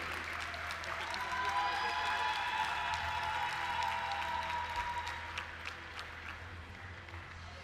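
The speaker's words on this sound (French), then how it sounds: "Derniers applaudissements, ce beau podium pour Pauline, pour Lucie, pour Loïc." An audience applauds steadily at the prize ceremony of an international show jumping event in Bordeaux, sustained clapping from a crowd that slowly fades toward the end.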